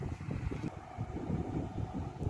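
Wind blows outdoors on farmland, buffeting the microphone with a low, uneven rumble and a faint hiss, steady and quiet with no voices.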